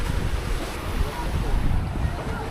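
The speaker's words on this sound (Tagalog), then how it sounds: "Ulan na yan, pagkataas ng hangin." Strong wind buffets the microphone out at sea aboard a small boat, a constant loud roar with low gusty rumble and surf wash underneath, heard close and without letup.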